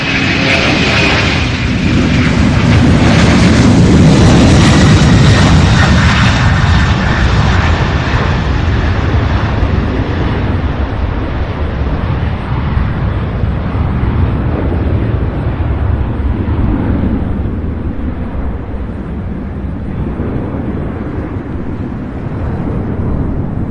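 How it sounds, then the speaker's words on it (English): A UPS 2900 heavy cargo jet takes off from runway 35 left at Louisville, a loud, sustained roar that builds and then slowly fades as the aircraft climbs away. "Absolutely fantastic takeoff."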